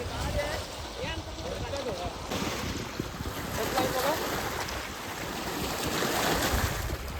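Water of a large dam reservoir washes and laps continuously under strong gusting wind buffeting the microphone, with voices talking over the outdoor rush.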